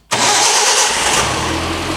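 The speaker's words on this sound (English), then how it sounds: "it starts and runs actually pretty good for how old it is" An old engine, apparently from 1986, cranks and fires up, then settles into a loud, steady run. The brief start spreads into a dense hiss-like roar that holds for the rest of the clip with no speech.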